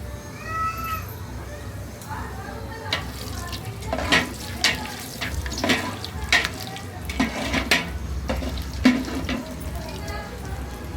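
Whole dried red chillies and whole coriander seeds sizzling in a pan, a steady close frying hiss broken by scattered sharp crackles and pops.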